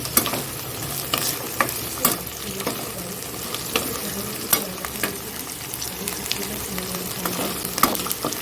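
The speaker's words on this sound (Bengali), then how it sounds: "এইদিকে আলুটাও ভাজা মোটামুটি হয়ে গেছে" Potatoes fry in a pan with a steady close sizzle while a spatula stirs and scrapes them in repeated sharp knocks throughout; no talking.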